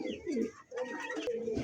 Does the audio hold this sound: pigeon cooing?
yes